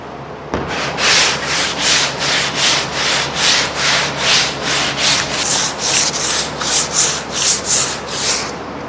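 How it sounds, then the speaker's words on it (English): A sanding block with sandpaper is pushed by hand over polyester primer in long, light, even strokes, about sixteen rhythmic rasping swipes close to the ear with nothing else heard. "The key with blocking is to use as little pressure as possible, but just let the block and the sandpaper do the work."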